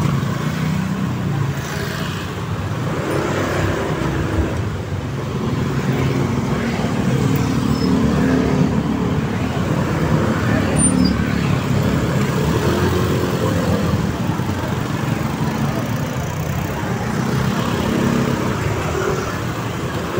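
Dense road traffic in Manila, a steady broadband rumble of car and motorcycle engines idling and creeping along, continuous and moderately loud without any single vehicle standing out.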